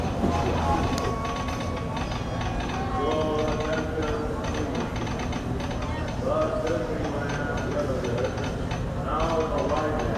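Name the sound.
Disneyland Railroad train ride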